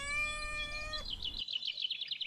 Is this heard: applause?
no